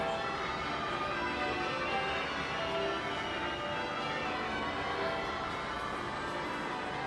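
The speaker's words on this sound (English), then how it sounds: "And the ring of bells at Westminster Abbey" Church bells ring at Westminster Abbey during a royal wedding, a dense, steady wash of pealing tones with no clear individual strikes, continuous and fairly distant across the whole stretch.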